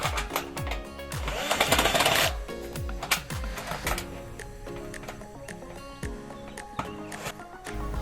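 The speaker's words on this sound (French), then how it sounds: "Je visse la prochaine paroi." An electric screwdriver drives screws into the panel of a VEGEGA raised garden bed, producing short whirring bursts mixed with clicks and knocks, fairly close and irregular.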